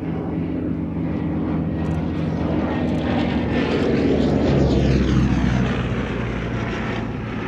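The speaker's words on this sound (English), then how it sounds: "As an Army cooperation aircraft." A propeller-driven Army cooperation aircraft flying at the Shuttleworth Race Day air show in 2022, a loud steady engine drone that swells and shifts pitch as it passes overhead.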